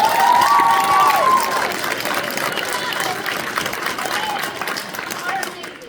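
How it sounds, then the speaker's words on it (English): Crowd cheering and clapping in a large room at a senior acknowledgement ceremony, with a shout rising at the start, then a steady wash of applause mixed with voices. "please give them a special round of applause"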